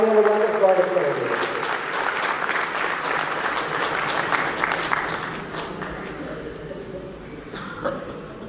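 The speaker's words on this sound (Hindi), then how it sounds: "सभी तालियां बजाकर स्वागत करेंगे।" A ceremony audience applauds to welcome a guest, a dense, loud wash of clapping that fades gradually, with a voice speaking at the start over the crowd.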